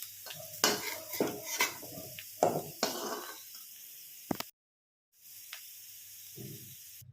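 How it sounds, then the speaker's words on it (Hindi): Golden-brown fried potatoes scooped from a kadhai onto a plate, with several close metallic scrapes and clinks of a spatula against the pan over a faint sizzle, then a brief silence and a softer clatter. "अब आलू को भी हम निकाल लेते हैं प्लेट में।"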